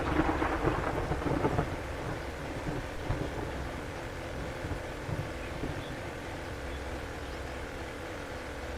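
Steady rain and rolling thunder from a storm in the video game 7 Days To Die, with a louder rumble early on, then a continuous wet wash with no talking.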